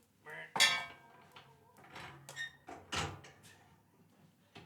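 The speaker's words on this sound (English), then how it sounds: "I can shut that door now, I think." An indoor door shuts amid a short run of knocks and clatters, several sharp thuds and rattles over a few seconds, fairly close and moderate in volume, with no voices.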